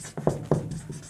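Marker or chalk strokes on a classroom board during a physics lesson on plane mirrors, with two or three short scratchy strokes close by and no talk.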